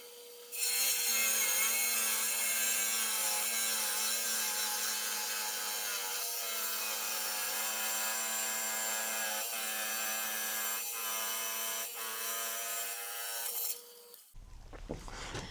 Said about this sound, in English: So we're going to use a trim saw.